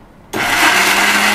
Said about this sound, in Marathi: आता आपण हे मिक्सर मध्ये बारीक करून घेऊया.